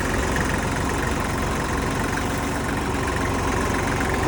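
A Kubota tractor pulling a Lemken implement runs with a steady, continuous engine drone and a rough mechanical rumble throughout, loud and close with no pauses.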